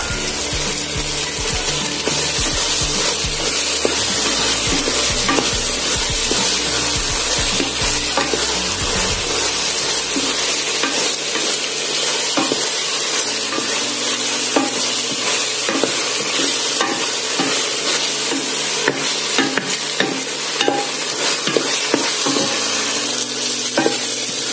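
Garlic frying in a pan for a dish of fried red beans with mint and smoked chicken, a steady close sizzle with scraping stirring strokes running throughout.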